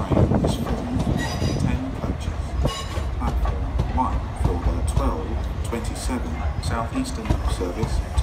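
A Southeastern train service to Dartford at a London station, with rumbling, clattering carriages and station noise throughout, under a loud public announcement voice.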